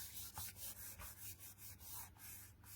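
Quiet, repeated rubbing strokes as glued craft card is pressed down by hand, a soft brushing rhythm of about ten quick passes, close and faint.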